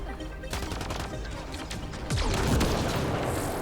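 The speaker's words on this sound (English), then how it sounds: "Just keep shooting." Mass Effect Andromeda combat gunfire, repeated sharp shots and bursts over a busy, noisy battle backdrop, with a louder surge of impacts toward the end and occasional voices underneath.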